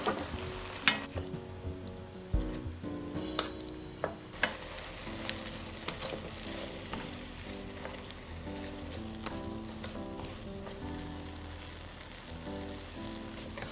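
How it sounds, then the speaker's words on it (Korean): A steady, soft sizzling and bubbling of soy braising sauce with lotus root and cheongyang chili simmering over low heat in a pan, continuous and fairly quiet, with occasional faint clinks. "약한 불에서 졸여주겠어요"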